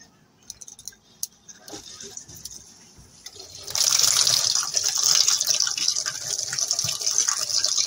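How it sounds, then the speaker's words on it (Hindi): Water rushes into a washing machine at home, starting after a few seconds of quiet scattered knocks and then becoming a loud, steady gushing that continues to the end. "देखिए मैं मशीन में पानी भर लेती हूँ।"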